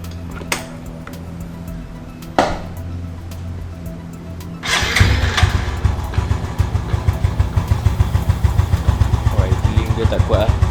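A Yamaha Lagenda 115ZR fitted with an Apido exhaust cranks and fires up midway, settling into a loud, close, rapidly pulsing single-cylinder idle after a few clicks and knocks beforehand.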